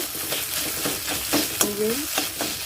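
Egg and browned onion stirred in a frying pan, with a continuous sizzle broken by rhythmic scraping strokes of a spatula, close and clear.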